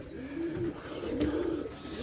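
Pigeons cooing steadily for a couple of seconds, soft low throaty calls overlapping, close by with no talking.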